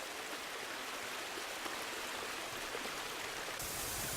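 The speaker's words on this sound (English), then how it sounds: "Meltwater channeled down from high on these ice caps pours over a precipice where the ice meets the ocean" Arctic meltwater from high ice caps pours over a precipice where the ice meets the ocean, a steady, rushing wash of water noise with no pauses, moderately faint and heard without voices.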